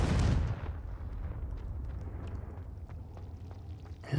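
In the video game Hogwarts Legacy, the Confringo fire spell bursts in a loud, booming explosion that quickly decays into a rumbling, crackling tail, with another sharp burst at the very end.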